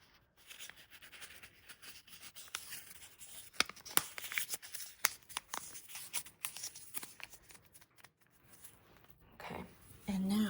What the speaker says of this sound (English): So you draw a rough draft of it on a piece of paper, and then I'm going to fold it 3 times towards myself.